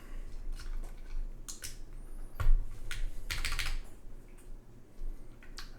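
Mechanical keyboard, a Bowl Keyboards OC-62 with keycaps fitted, typed on in quick irregular bursts of clacky keystrokes with one heavier thock partway through, close up and alone, no voices.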